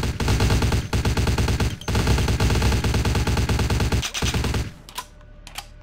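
Rapid automatic gunfire from a gun in the video game Vampire: The Masquerade - Bloodlines rattles loud and close in a steady burst, with a few brief breaks, then stops and leaves a few scattered clicks.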